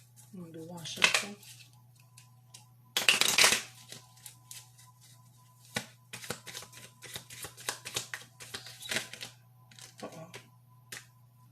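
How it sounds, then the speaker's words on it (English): Reading cards riffled in a single shuffle during a personal card reading, heard as quick papery bursts near the start and again around three seconds, followed by lighter scattered taps and card handling over a steady low hum. "I'm going to do one shuffle."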